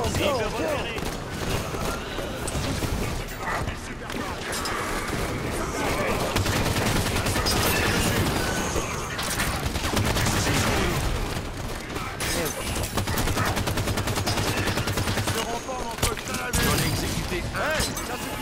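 Dense, continuous gunfire in Halo 5 Guardians multiplayer, with rapid automatic bursts, shattering impacts and occasional booms filling the whole stretch, while voices talk over the battle throughout.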